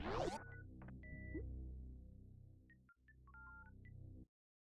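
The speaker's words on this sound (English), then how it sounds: "it just did 10 beeps that says there's notification" A phone sounds a quick run of short, high electronic notification beeps, about seven or eight in a loose cluster, cutting through steady video game music playing underneath.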